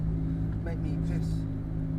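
Steady low engine drone of a noisy Renault car while driving, a continuous close rumble filling the cabin with a faint voice briefly heard over it.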